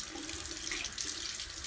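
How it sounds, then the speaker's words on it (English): Tap water running into a sink for a caregiver's handwashing demonstration, a soft steady splashing stream heard close and quiet for under two seconds, with no talking. "Adam turns the water on and make sure his sleeves are rolled up"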